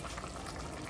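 Water boils in a pot of mutton potato curry, a soft continuous bubbling and simmering, faint and close, with no talking.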